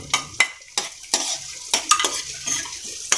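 Garlic sautés in a pan for a Filipino ginisang sayote dish, with a quiet sizzle broken by several sharp scrapes and clinks of a spatula stirring against the pan.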